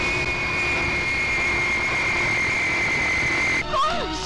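An airplane's jet engines roar in a steady, loud whine with a sustained high tone, then the sound cuts sharply near the end as other noises briefly take over.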